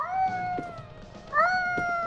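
A cat in the video game Order 13 meows when petted, two clear drawn-out meows about a second apart, close and prominent with no talk.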